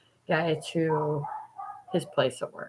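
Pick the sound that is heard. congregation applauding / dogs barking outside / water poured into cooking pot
dogs barking outside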